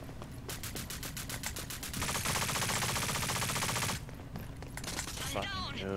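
Rapid automatic gunfire bursts in the Rogue Company shooter game, a dense loud volley followed by scattered shots and game effects.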